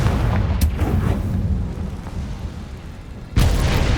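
A Confringo blasting curse in Hogwarts Legacy explodes loudly among other booming magical blasts, with a sharp burst near the start and another heavy hit toward the end.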